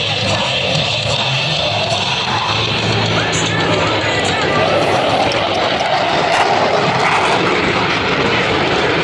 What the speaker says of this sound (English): observe as both pilots sustain 6 times the force of gravity to cross their aircraft over center point.